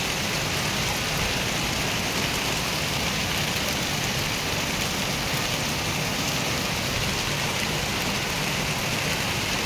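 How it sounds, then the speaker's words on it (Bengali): Steady heavy rain pours outside, a dense unbroken hiss that stays level throughout. "আমাদের দিকে তো বৃষ্টি হচ্ছে"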